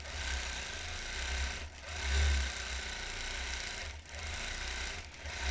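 A vintage longarm quilting machine stitches a quilt in a steady, loud continuous drone with a low motor hum, dipping briefly at about two points before resuming at an even pace.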